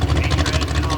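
A Jeep engine rumbles and revs loudly near a mud pit at a tough trucks tractor-tire class event in Lima, Ohio, with a steady low throbbing roar and a commentator talking over it.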